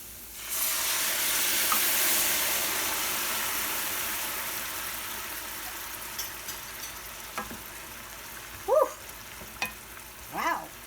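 Bourbon poured into a pan of sauteing carrots bursts into a loud hissing sizzle that slowly fades, followed by a few scrapes of a utensil stirring, close by.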